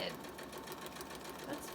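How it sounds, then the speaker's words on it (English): A sewing machine stitches a paper-pieced flower block in a steady, continuous whirring run, faint and close, with talk over it. "now she's sewing between number 4 and 5"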